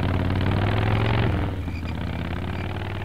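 Game motorcycle in Full Throttle Remastered idling with a steady low rumble throughout, slightly louder and busier in the first second and a half before settling into an even, continuous idle with no talk.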